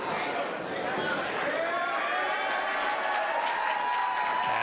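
A wrestling event crowd roars and cheers steadily and loudly throughout, a dense continuous wash of voices with applause mixed in.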